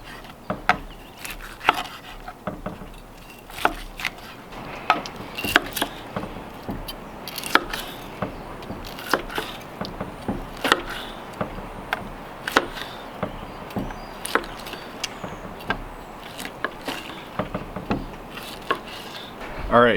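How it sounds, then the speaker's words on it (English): A knife slices through rested steaks, one cooked in beef tallow and one in clarified butter, producing repeated light cutting taps and scrapes on a board at an uneven rhythm, close and fairly quiet. "now time to slice in"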